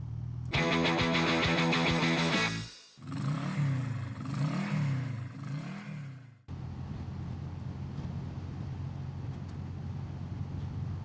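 A BMW R12 nineT motorcycle being ridden: an engine drone rises briefly, then gives way to a rushing, buffeting wind roar as the bike moves along.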